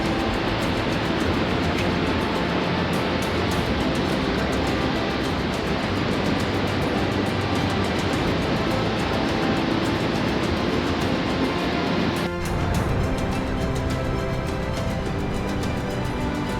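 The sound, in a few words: sea waves on the Portuguese coast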